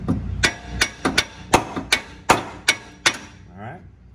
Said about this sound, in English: we're going to tap out the lower control arm.